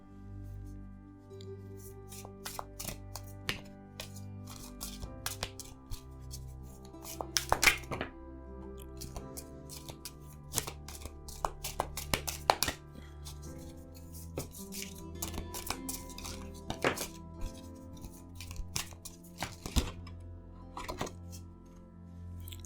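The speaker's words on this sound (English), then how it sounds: "I'm just going to shuffle the cards" Tarot cards are shuffled by hand with soft flicks, riffles and taps on a surface, irregular and close, with no one talking.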